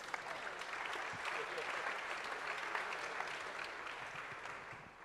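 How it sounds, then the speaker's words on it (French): A conference audience applauds a guest arriving on stage at a talk on artificial intelligence; dense, steady clapping fills the whole stretch at even loudness, with a voice faintly under it. "Applaudissez-le, s'il vous plaît."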